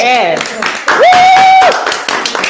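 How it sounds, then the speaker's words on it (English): Scattered hand claps break out beneath a loud, drawn-out vocal whoop and excited voices, brief and uneven over a couple of seconds. "Let's clap it up for that."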